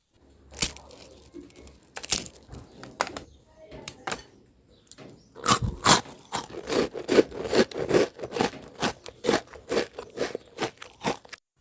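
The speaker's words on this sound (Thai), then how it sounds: "ส่วนในขั้นตอนนี้เราก็จะให้ฟังเสียงขนมค่ะ" Crispy green pandan Thai rice crackers (khao taen) crunched close up, a series of sharp, brittle cracks and chewing crunches, sparse at first then dense and rhythmic, with no talk over them.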